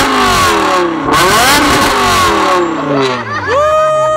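A car engine revs hard close by, climbing and dropping through several loud throttle bursts before settling, with faint voices in the background.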